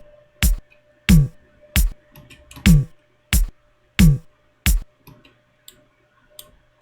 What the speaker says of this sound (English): first the kick here and the kick to here,